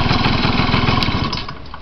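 A small Urban engine runs at a steady fast idle with a rough, buzzing putter, close and loud, easing slightly toward the end.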